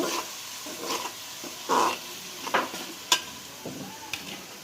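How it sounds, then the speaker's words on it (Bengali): Chopped garlic stirred in a frying pan alongside chopped ginger, a spoon scraping and clacking against the pan in irregular strokes over a gentle sizzle. "রসুন কুচি দিয়ে দিলাম এগুলো আমি ভালো করে মিক্স করে নিব"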